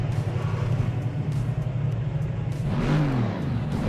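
A car engine in a sim racing game revs loudly and continuously, its pitch sweeping up and down as it accelerates, close and dominant with no voices heard.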